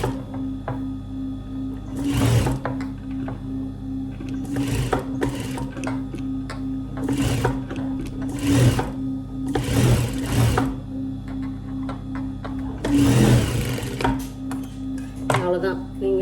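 A sewing machine hems a neck piece of a garment in short bursts of rapid stitching, loud and close, separated by pauses, with a steady low motor hum underneath.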